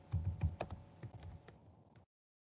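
Someone types on a computer keyboard in a brief run of soft, close key clicks lasting about two seconds, then silence.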